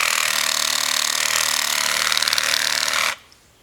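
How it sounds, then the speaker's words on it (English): A Sawzall reciprocating saw cuts through tree trunks with a loud, steady buzzing whine close by for about three seconds, then stops abruptly and leaves near silence. "he put his Sawzall to the test."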